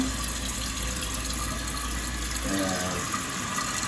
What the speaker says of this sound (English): And water is filling, and we should hear it stop when it gets to the top.